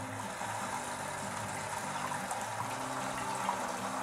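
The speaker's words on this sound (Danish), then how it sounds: "så fylder man karret helt op" Water pours steadily into a whirlpool bathtub being filled up to the top jet, a constant rushing flow with a low mechanical hum underneath, heard alone.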